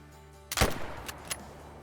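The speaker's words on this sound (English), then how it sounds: "A 400-yard shot is coming up." A .257 rifle fires once at a ram during a long-range hunt in Call of the Wild: a sharp, loud crack followed by a rolling tail, with two fainter distant thumps trailing after.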